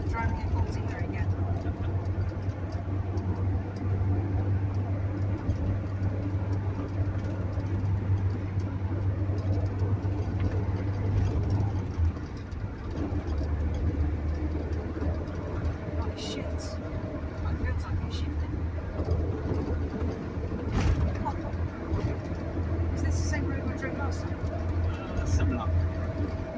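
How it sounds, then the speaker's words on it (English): A Ford Cortina Mk3 Estate's engine drones steadily at mid pitch while driving on a bouncy country road, a continuous low hum with road noise throughout and a few brief bird chirps. People talk over it. "I'm happy today, I'm driving a Cortina again."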